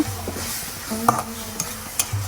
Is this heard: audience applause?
no